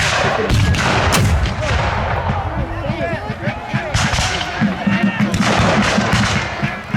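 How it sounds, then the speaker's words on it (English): Reproduction 18th-century line-of-sight artillery fires at a Revolutionary War reenactment, with loud booming blasts rolling out over a busy outdoor crowd and a steady background of voices. "The artillery being used here today, representing 18th century artillery, was what we refer to as line of sight artillery."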